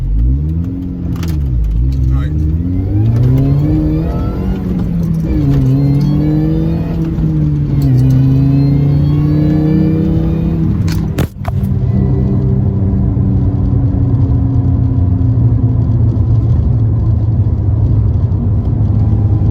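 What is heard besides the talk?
Mini Cooper S accelerating in first gear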